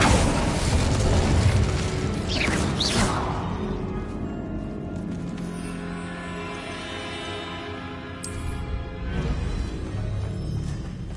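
Spell blasts from Bombarda, Confringo and Incendio burst through a room in Hogwarts Legacy, with a loud booming explosion up front that settles into a rumbling, crackling tail and a few smaller pops.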